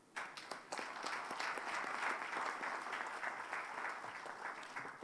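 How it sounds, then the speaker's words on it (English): An audience at a plenary session of an African FETP training program applauds in honor of GIF, a steady, full round of clapping from many hands that stays loud and dense throughout, with no talking over it. "I would like us request you to applaud GIF again."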